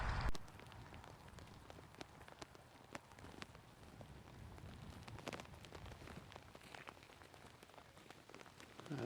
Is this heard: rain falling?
yes